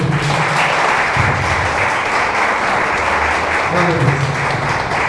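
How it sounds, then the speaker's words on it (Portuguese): A congregation applauds during a Brazilian Portuguese church sermon, a steady, dense wash of clapping lasting several seconds, with faint voices and cheers mixed underneath. "Dê uma salva de palmas para Jesus."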